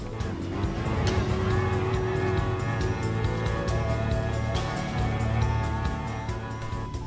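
McLaren F1 GTR race car in Gulf livery racing at Red Bull Ring in Gran Turismo Sport, its engine droning steadily and loudly throughout, layered with other cars and faint tire noise.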